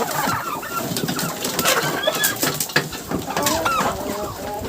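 Chickens cluck and squawk while being fed by hand at a backyard flock, a busy overlapping chorus of hens close by with scratchy pecking and rustling throughout.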